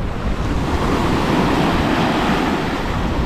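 Rough sea surf rolls onto Es Canar beach in Spain, a continuous loud roar of breaking waves with wind buffeting the microphone throughout.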